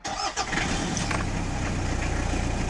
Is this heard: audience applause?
no